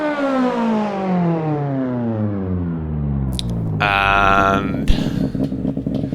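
Peugeot 306 Kit Car engine in Richard Burns Rally revving up in a long rising sweep, climbing steadily to the limiter and bouncing there, then dropping back with a sharp crack.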